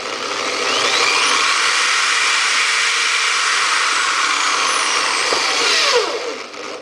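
A small electric motor, controlled through a potentiometer, runs steadily at high speed with a continuous broadband whine, loud and alone, easing off slightly near the end.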